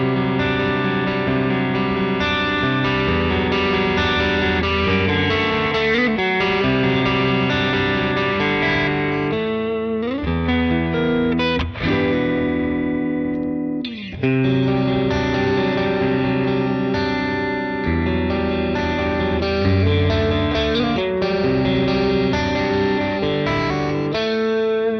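Distorted Squier Classic Vibe electric guitar plays continuously through effects into a cranked Vox AC30 amp, thick and saturated with echo, loud and steady for the whole stretch with a brief dip midway.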